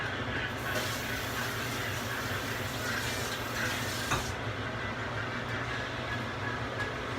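A tap runs steadily for handwashing, a continuous hiss of flowing water that stops partway through, leaving a quieter low background.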